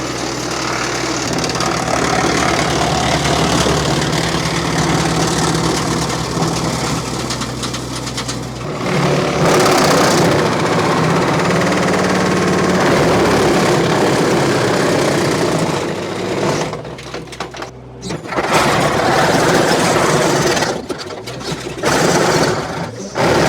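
A small 25 HP tractor engine drones steadily and loudly for the whole stretch, with a lower rumble early on and brief dips and surges in the later part.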